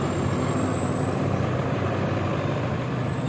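Buses running in heavy street traffic at Dharmatala in Kolkata, a steady loud rumble of diesel engines with a continuous high whine close by, with no talking.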